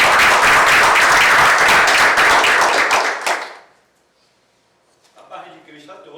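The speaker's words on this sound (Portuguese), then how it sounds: "Você pode dar um aplauso para Jesus?" A church congregation claps in sustained, loud applause for about three seconds, then it fades out into near silence before a voice begins speaking.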